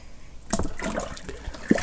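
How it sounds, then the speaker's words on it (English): Liquid malt extract stirred into hot water for a home-brewed Irish red ale kit: soft sloshing and trickling with a few small clinks and splashes, close and fairly quiet. "let's give that a stir"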